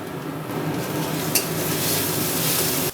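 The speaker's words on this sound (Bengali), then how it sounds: "গ্রেট করা পেঁয়াজ, পেঁয়াজ আর রসুনটা একটু ভাজা ভাজা করে নেব।" Grated onion, garlic and ginger fry in a pan with a steady, close sizzle, stirred continuously with faint scraping of the utensil, and no voices.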